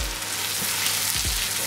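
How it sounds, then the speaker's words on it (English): Chicken sizzles loudly in a hot wok, with steady frying hiss and a couple of stirring scrapes. "I've cooked this on a very high heat, as you can see, stirring nearly all the time"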